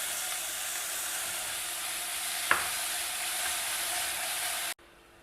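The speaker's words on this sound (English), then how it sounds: "Fry the onions till they are translucent." Chopped onion with ginger garlic paste fries in a pan with a steady, even sizzle and hiss, one sharp clink of a utensil partway, then the sound cuts off abruptly near the end.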